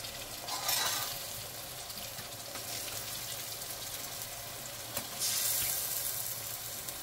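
Chicken sizzles as it is added to a pan with fried onions, turmeric and ginger-garlic paste. A steady, close frying hiss carries throughout, with brief louder bursts and stirring, and no talk.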